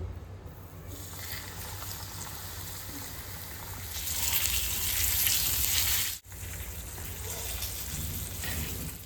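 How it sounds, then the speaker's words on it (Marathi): Steady crackling sizzle of coated tilapia frying in hot oil in a pan, loud and close, swelling briefly midway with a short break before continuing. "तव्यात तेल टाकून घेऊ, मध्ये मच्छी टाकून घेऊ"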